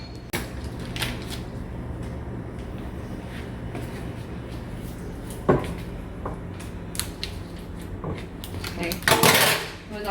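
Kitchenware clinks and clatters while butter is scooped into a container, with scattered light knocks and a louder rattling clank near the end; a person speaks throughout.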